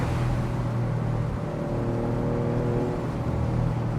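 Engine of a Maserati GranCabrio Trofeo, heard from inside while driving, a loud continuous drone with rising tonal pitch lines and brief breaks between gears, no talking.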